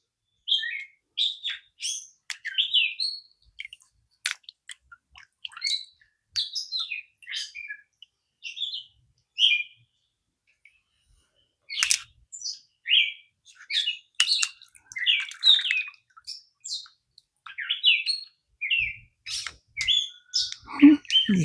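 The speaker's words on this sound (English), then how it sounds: "You got birds out here chirping." Small birds chirp and sing in a garden, a lively run of bright tweets and trills that comes in bursts with short pauses, fairly close, with a brief low rumble near the end and no talking.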